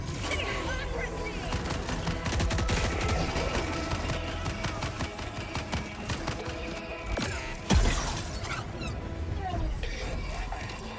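Weapon fire in Helldivers 2 during a fight against the Illuminate, from a long-range gun hitting distant targets: rapid sharp shots packed into a dense, loud battle mix that runs the whole time.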